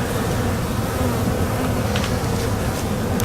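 A dense swarm of honey bees buzzes steadily around an open hive during a spring inspection, a continuous close drone with no voices.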